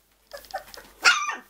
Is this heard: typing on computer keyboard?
no